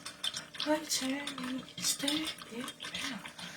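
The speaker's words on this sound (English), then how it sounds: "Go stir it around. Stir it around." A spoon stirs coffee in a cup, giving repeated light clinks and scraping swirls at close range while a person talks over it throughout.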